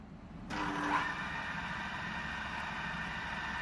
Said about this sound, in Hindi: Now it is working at approximately 1250 RPM.